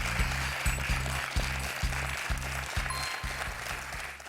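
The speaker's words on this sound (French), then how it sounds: "applaudis par Ludovic, applaudis par Samuel." Studio audience applause on a French quiz show rises as a steady wash of clapping, with a rhythmic low pulsing of music beneath it throughout.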